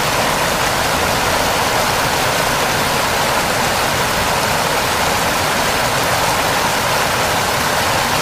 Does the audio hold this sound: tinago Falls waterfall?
yes